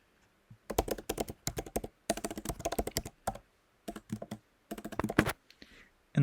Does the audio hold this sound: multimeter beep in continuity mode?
no